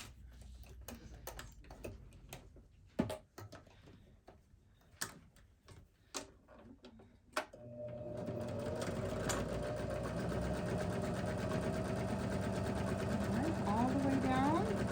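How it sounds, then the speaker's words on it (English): Sewing machine stitching the final seam of a fabric Sew Together Bag: scattered handling clicks and taps lead into a steady, close, continuous motor whir that runs unbroken through the second half. "So it's clipped and ready to sew that last one."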